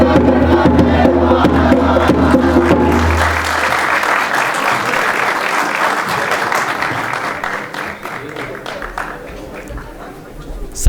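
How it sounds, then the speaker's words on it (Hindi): Loud audience applause after a school theatre play on water scarcity at the National School of Drama, dense crowd clapping that gradually thins, with some voices and cheering mixed in near the start. "के लिए एक बार फिर से ज़ोरदार तालियां हो जाएं।"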